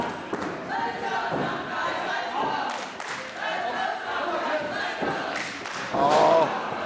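A wrestling crowd cheers and rallies at an indie wrestling show, with voices swelling and shouting, thuds from the ring, and a louder roar building near the end.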